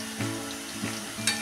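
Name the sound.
spicy shankarpali dough pieces frying in hot oil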